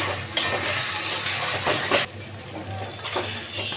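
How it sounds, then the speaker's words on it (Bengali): Potato filling for aloo paratha, mixed with roasted spices, is stirred in a hot pan. A steady sizzle runs throughout, with a few sharper scraping strokes standing out and a slightly quieter stretch in the middle. "ভাজা মশলাটার সঙ্গে ভালো করে মিশিয়ে নেব"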